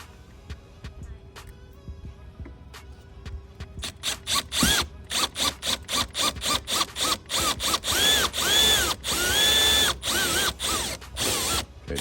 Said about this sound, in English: You'll know where to drill through.